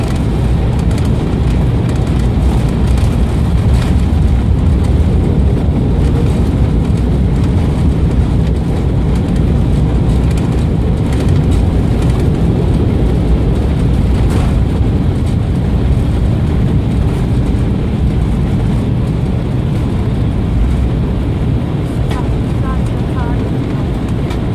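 A LOT Polish Airlines Embraer ERJ-195 airliner lands on runway 17L at Istanbul, a continuous loud, broad engine and rushing-air roar that stays steady throughout, with possible voices mixed in.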